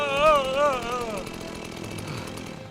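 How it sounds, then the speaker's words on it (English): Chainsaw in a horror video game revving with a wavering, high-pitched snarl, then settling into a steady rough drone, loud and close, with voices talking over it. "Chainsaw."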